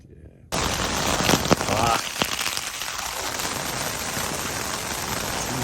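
Heavy rain suddenly begins falling on a hike along the Cooloola Great Walk on Australia's Sunshine Coast, a dense hiss of drops on surfaces that starts abruptly after a quiet moment and continues steadily, with a few louder knocks early on.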